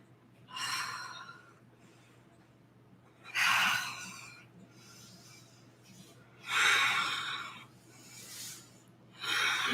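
Deep audible breaths in a yoga flow class, four long airy exhales and inhales spaced a few seconds apart, close and fairly loud over a low steady hum, with no talking.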